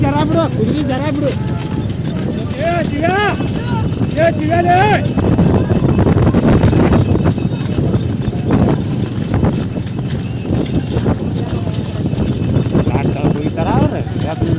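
Horse hooves clip-clop in a steady rhythm across an open ground, with voices talking and calling out over the hoofbeats throughout.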